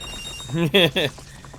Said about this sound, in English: I tugged on the cow's happy place, Dales, so the cow's gonna make the expected noise